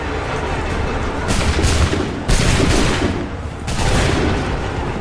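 Soldiers fire a musket volley in the game Assassin's Creed III, a loud, dense burst of gunfire that repeats three times over constant battle noise.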